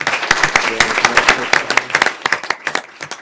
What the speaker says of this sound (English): How about another round of applause for our students?